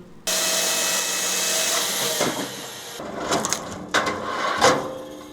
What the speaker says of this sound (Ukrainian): Кругляки колять спеціальною машиною.